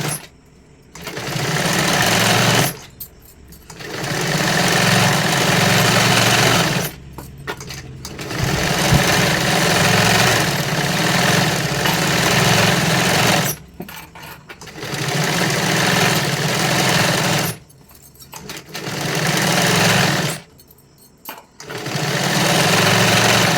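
A sewing machine stitches a size 44 katori blouse in loud, close bursts of rapid mechanical whirring. The runs last several seconds each and are separated by short pauses, with no talking.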